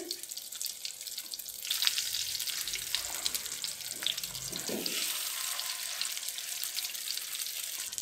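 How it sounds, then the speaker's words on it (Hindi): Shami kebabs dipped in egg fry in a pan, a steady broadband sizzle running throughout with some faint clinks and movement partway through, no talking. "इसी तरह मैं चारों शामी कबाब को डिप करके फ्राई कर लेंगे।"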